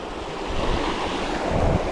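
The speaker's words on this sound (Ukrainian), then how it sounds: "цей водоспад" A waterfall at a fishing spot makes a loud, continuous broadband roar of rushing water, steady and close, with wind noise on the microphone and no talk.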